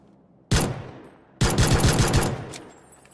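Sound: gunfire in the video game PUBG

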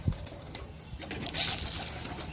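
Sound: pigeons cooing as they come to be fed grain

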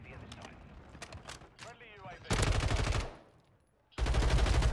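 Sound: shotgun fire in Call of Duty Mobile video game

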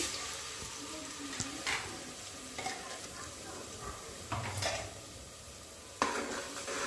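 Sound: spices and ground chili paste frying for tempering

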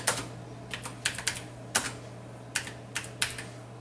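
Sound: typing a text message on a computer keyboard

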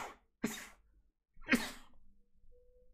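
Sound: sneeze

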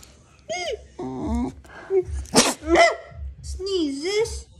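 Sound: Japanese Spitz Maltese mix dog sneezing

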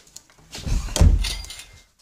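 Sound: door being closed

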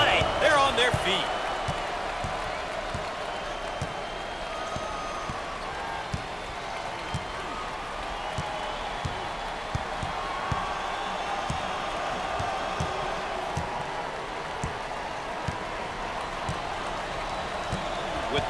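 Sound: home crowd cheering in NCAA Basketball 10 video game

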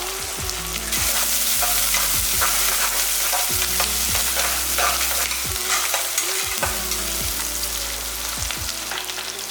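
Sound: onions, green chillies and curry leaves frying and stirred in pan

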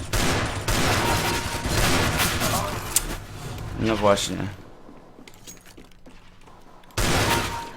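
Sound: gunshots in Counter-Strike video game

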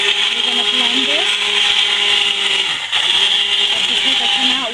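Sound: submersible blender pureeing butternut squash soup

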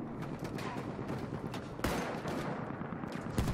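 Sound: gunfire in the video game Battlefield 1

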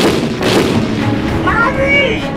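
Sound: gunfire in BeamNG.drive video game

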